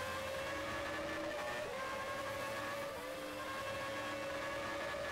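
The Yamaha engine of a Jordan Formula One car in a racing video game holds a steady high-pitched whine, faint and continuous, with a slight pitch dip partway through and no talk.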